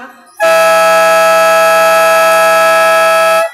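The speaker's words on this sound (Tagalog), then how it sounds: "Buzzer na lang maririnig nyo." A loud, sustained game buzzer blares for about three seconds, cutting in abruptly over faint background noise and stopping just as suddenly.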